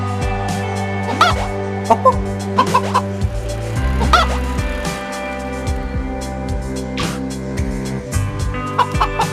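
A rooster clucks in the video game A Space For The Unbound, giving several short, fairly close calls over a droning musical background with steady tones.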